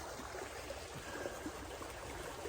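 A faint, steady trickle of stream water flows gently along a late-spring trap line, a soft continuous wash with small bubbling splashes and no voices.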